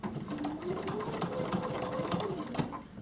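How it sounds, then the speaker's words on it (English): A sewing machine stitches tote bag fabric in a steady, fast run of needle strokes that holds level for the full three seconds, close and loud with no talking over it. "I'm gonna stitch all the way to the end"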